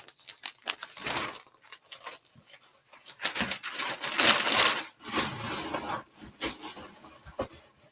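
Packing paper is crumpled by hand to fill a cardboard shipping box around a large breakable item, giving a run of close, irregular crinkling and rustling bursts that swell and fade over several seconds with no speech.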